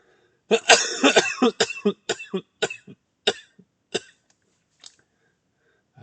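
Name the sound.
cough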